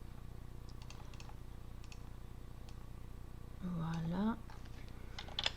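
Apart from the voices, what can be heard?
typing text on a computer keyboard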